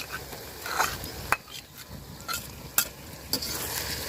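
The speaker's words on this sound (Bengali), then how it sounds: "পেঁয়াজটা দেখেন আমি লাল লাল করে ভাজা নিচ্ছি তো এখানে যে আদা রসুন জিরা বাটা সব মশলা দিয়ে দিলাম" Onions browning in a pan with ginger, garlic and cumin paste cooked outdoors on a windy winter day for duck curry; a soft sizzle runs under several sharp spatula scrapes and knocks, close and uneven.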